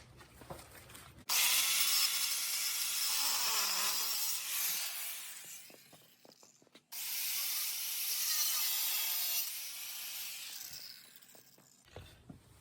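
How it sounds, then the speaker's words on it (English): An angle grinder cuts through an old mountain bike frame in two long, loud bursts of harsh, high-pitched grinding, each lasting several seconds, with a short pause between them and quiet before and after. "we're going to cut a couple pieces off with the angle grinder to start out"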